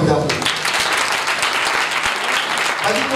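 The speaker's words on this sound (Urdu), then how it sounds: "زوردار تالیاں بجا دے" A church audience at a sermon breaks into loud, sustained applause, dense clapping that fills the whole stretch with a voice faintly underneath.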